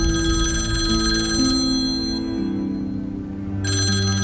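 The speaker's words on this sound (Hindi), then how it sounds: "एक ही दफा फोन सुन लो" A phone rings loudly with a bright electronic ringtone melody, continuous and close, pausing briefly before resuming.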